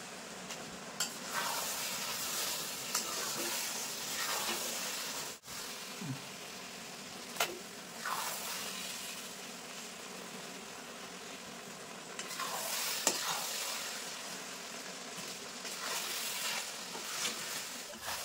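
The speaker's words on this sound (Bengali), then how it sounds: "মশলা দেওয়ার পরে কিন্তু আমি আরেকটু নেড়ে নেব, যাতে সব মশলাগুলো ফুলের ভিতর ভালোভাবে যায়।" A spoon stirs spiced jujube pickle in a pan over a gas flame, with steady frying hiss and recurring scraping sweeps throughout, close and moderately loud, and a few sharp knocks against the pan.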